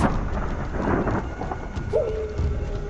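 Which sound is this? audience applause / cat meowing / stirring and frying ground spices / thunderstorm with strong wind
thunderstorm with strong wind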